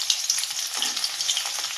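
Green chilies sizzle steadily in hot ghee in a pan, a bright, continuous crackle at close range with no voices over it.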